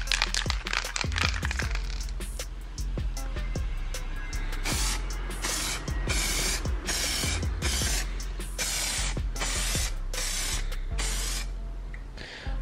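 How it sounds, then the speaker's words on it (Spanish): An aerosol can sprays primer onto a BMW E46 body panel under repair after a drift crash, a close steady hiss in repeated bursts with sharp clicks and rattles between passes. "voy a echar la capa de imprimación aquí"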